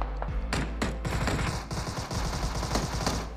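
S686 double-barrel shotgun fire in PUBG Mobile during a squad battle: several loud, sharp blasts in quick succession among other gunfire, close and dominant, with no voices.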